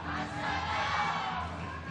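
A taekwondo match crowd roars and cheers in a dense, sustained wash of voices at a girls' junior world championship semifinal, loud and continuous throughout.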